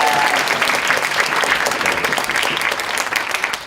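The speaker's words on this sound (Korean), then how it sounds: "박수." Students and audience at a school debate festival applaud in a loud, sustained burst of many hands clapping, steady from start to finish without voices.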